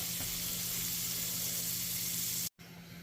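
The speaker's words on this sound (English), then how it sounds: "we're going to stick a little bit of butter in there. This pan's hot." Butter in a hot pan gives off a steady, hissing sizzle, fairly quiet and continuous with a brief dropout near the end, with no voices over it.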